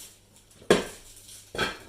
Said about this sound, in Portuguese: Agora eu fecho a panela.